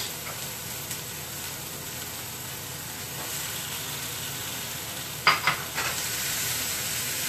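Garlic, green onion and vegetables sizzle in a hot pan with a steady close hiss, interrupted near the end by a few sharp clatters as the pan is stirred.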